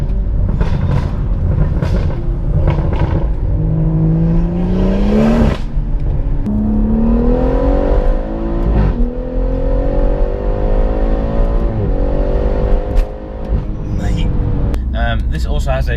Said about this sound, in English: This also has a Remus catback exhaust, which is valved.